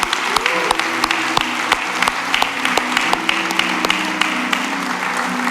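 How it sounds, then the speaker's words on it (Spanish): A church audience applauds, giving a steady, even run of claps with regular sharp accents throughout, set against a faint sustained tonal hum and no talking. "Denle un fuerte aplauso al Señor"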